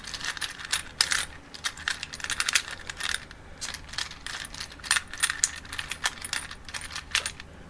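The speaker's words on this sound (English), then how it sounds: "We also have a little box full of safety pins" Small metal safety pins and paper clips rattle and clink inside a little box as it is handled on a desk, a steady run of close, light jingling taps with no voices.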